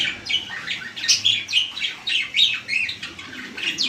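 Repeated short pigeon calls, fairly close and clear, coming in quick bursts with a slightly squawky edge and no talking.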